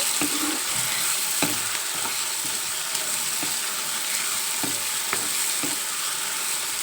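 Tomatoes frying in a pan at night, a soft continuous sizzle with occasional light clicks and stirs, fairly quiet and with no one talking.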